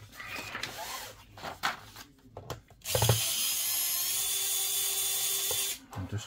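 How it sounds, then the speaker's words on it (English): A screwdriver backs screws out of an Asus X555L laptop: scattered clicks and handling noises, then a steady mechanical whir for about three seconds before stopping. "Get your screwdriver."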